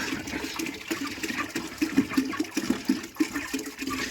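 Bottled spring water is poured into a drinker for day-old broiler chicks, giving a soft, continuous gurgling trickle with small splashy pulses, fairly faint and without talk.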